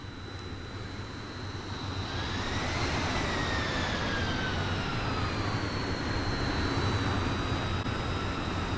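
Aircraft landing at Las Vegas International Airport (KLAS) in Infinite Flight, a steady loud jet engine roar with a high whine that swells and glides in pitch, with no voices.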